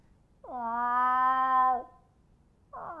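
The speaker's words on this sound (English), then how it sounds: "all of a sudden I heard this really strange cat cry" A strange, drawn-out cat cry heard at night: one long wavering yowl of over a second, loud and close, with the start of a second cry at the very end.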